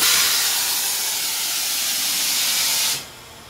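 Pneumatic plate of a blanket and pillow press machine pushing down, a loud steady hiss of released air for about three seconds that cuts off sharply, leaving low background noise.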